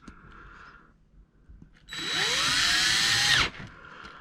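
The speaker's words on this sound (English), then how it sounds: "So let's go ahead and screw this back down." Close, loud whirr of a power drill driving screws to mount a SecuRam lock back onto a Liberty gun safe, a single steady run of about a second and a half that spins up and cuts off.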